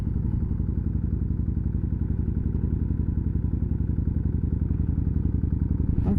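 A motorcycle rides along near East Fork State Park lake, its engine giving a steady, close, loud low rumble with a rapid pulsing beat and wind noise throughout, with no voices.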